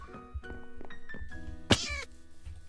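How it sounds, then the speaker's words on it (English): A cat meows several times inside the Minecraft video game, with one sharp, loud yowl near the end standing out over a faint background of game tones and low bumps. "There goes the cat again."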